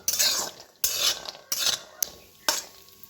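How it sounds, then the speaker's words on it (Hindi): Cashews and almonds rattle and scrape in a pan as they are stirred while roasting, in repeated sweeping strokes with a soft sizzle underneath, close by. "काजू बादाम एम कते नोआ हो नासे नासे बन भाजाया।"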